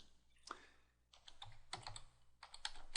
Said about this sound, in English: I'm just going to type in the information here